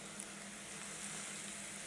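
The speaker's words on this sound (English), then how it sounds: "You can hear that sizzling away." Crumbed chicken sizzles quietly in hot frying oil, a soft, steady crackle and hiss close by with nobody talking.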